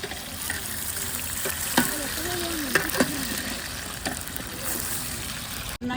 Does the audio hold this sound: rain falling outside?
no